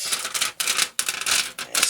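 A MacBook Air keyboard damaged by liquid is pried out by hand, giving close, loud bursts of crackling, clicking and tearing noise with short pauses between pulls.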